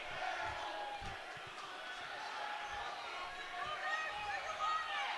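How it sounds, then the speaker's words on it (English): Gym crowd at a varsity boys high school basketball game roars in a sustained, dense wash of cheering and shouting that swells near the end, with a commentator talking over it. "Erupts the crowd."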